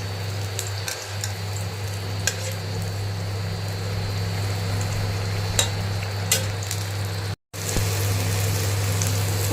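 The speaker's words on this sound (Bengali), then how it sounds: "পটল ভাজাটা আমি বসিয়ে দিলাম, আগে পটল ভাজাটাই করে নিই" Pointed gourd (potol) slices fry in a pan, giving a continuous low sizzle with a steady hum beneath and a few faint clicks. It runs for almost ten seconds and drops out briefly near the end.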